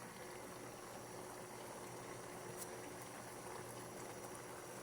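A covered pot of soup with kangkong simmers with a low, steady bubbling rumble that stays even and fairly faint from start to finish, with no voices.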